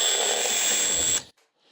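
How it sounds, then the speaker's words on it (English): A power tool whirs steadily while backing screws out of the front end of a BMW R1300 GSA motorcycle, a loud, sustained high-pitched drone that cuts off abruptly, leaving brief faint noise. "while I use power tools to remove screws"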